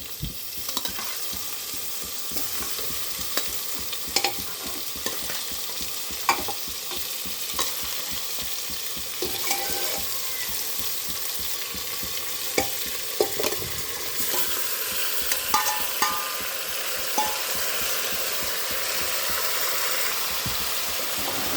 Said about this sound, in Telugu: మసాలా అంతా అల్లం వెల్లుల్లి పేస్ట్ మసాలా ముక్కకు పట్టాలి కదా, ఇలా కలియబెట్టుకోవాలి